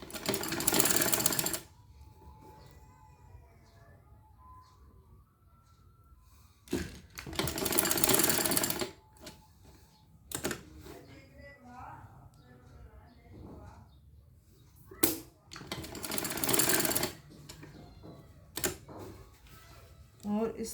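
Sewing machine stitching a frock in three loud bursts of rapid whirring, with someone talking in the quieter gaps between runs.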